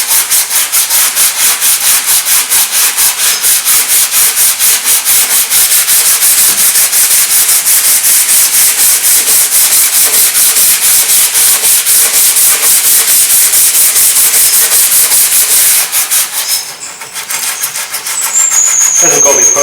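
Body filler on a Rover SD1 is sanded with a block in quick rhythmic back-and-forth rasping strokes, loud and close, running steadily for about sixteen seconds before a brief pause and a resumption.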